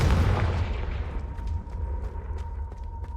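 A Confringo blasting spell goes off in Hogwarts Legacy, a loud deep boom that rumbles and then fades into a steady low roar, with faint crackles and a thin tonal hum lingering afterward.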